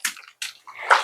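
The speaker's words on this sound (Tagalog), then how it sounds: "bababad ko siya sa tubig para yung bula niya is matanggal talaga" Laundry being soaked and swished in a basin of water to rinse out soap suds gives three short, close splashing sloshes in quick succession.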